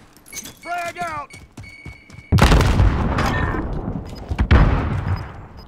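A frag grenade detonates in Call of Duty Warzone, a loud sudden boom with a long rumbling tail and a second burst, following a player's shout and radio chatter.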